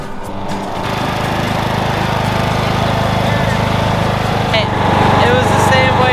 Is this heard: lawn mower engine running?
yes